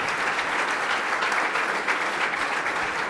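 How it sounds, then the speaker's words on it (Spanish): Dense, steady applause from a seated audience at an engineering regatta award ceremony in a hotel hall, many hands clapping continuously at even volume with no speech over it. "Un aplauso para Jon García, Íñigo Fuertes."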